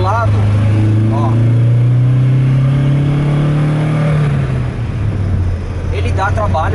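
A 1972 Alfa Romeo GTV engine, slightly out of tune, revs up loudly nearby, its pitch climbing and then dropping back to idle, with brief speech at the start and end.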